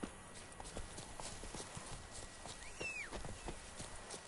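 Horse hooves clip-clopping in a steady walking rhythm across ground in The Witcher 3, the horse Roach moving at close range, with a faint whistle-like sweep partway through.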